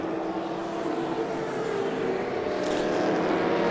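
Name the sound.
race car passing, Memo Rojas in the 01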